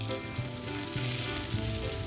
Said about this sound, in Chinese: 加入大虾，